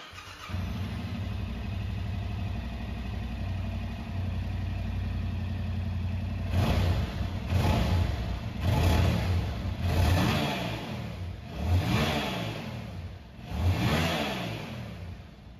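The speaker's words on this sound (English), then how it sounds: "here is the stock exhaust note for reference" A 2022 Yamaha R7 motorcycle on its stock exhaust idles steadily, then gets five sharp throttle blips, each rising and falling in pitch, loud and close with no talk.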